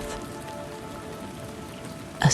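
Rain at night patters steadily against an old, thick, warped glass window, a soft continuous hiss with a brief louder knock or tap just before the end.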